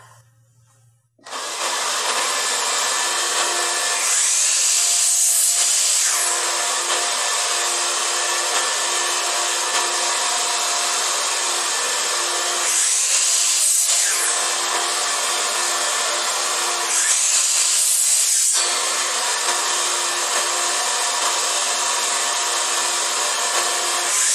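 Power saw cutting pallet wood planks to length against a stop block: a loud, steady motor whine runs almost unbroken, with three swelling bursts as the blade passes through the boards, close up.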